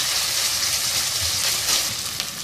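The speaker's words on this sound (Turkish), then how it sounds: "Kıyma ile soğanı biraz kavuralım" Minced meat and onions fry in a pan for a Turkish purslane stew, giving a steady, close, even sizzle that carries through without pause and with no talking.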